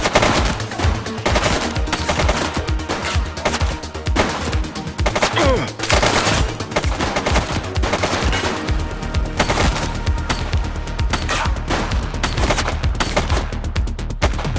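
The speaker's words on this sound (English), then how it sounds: "Shots fired!" Rapid gunfire in a video game shootout from The Precinct, dense machine-gun bursts and single shots crackling loud and continuous throughout, with a brief lull before the firing resumes.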